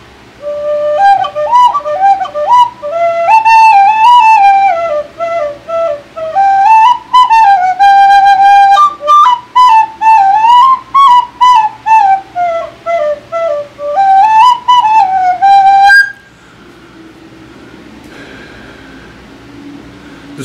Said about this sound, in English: This is a very, very low breath whistle, a very quiet, indoor, enjoyable little thing.